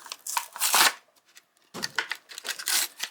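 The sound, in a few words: tearing open Matchbox toy car packaging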